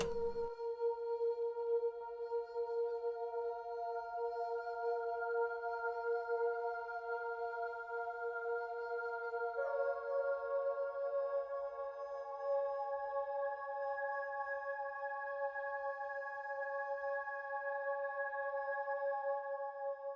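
A sustained Omnisphere synth pad chord holds steady, then shifts to a new voicing about halfway through, with faint airy noise swells drifting in and out high above the tones.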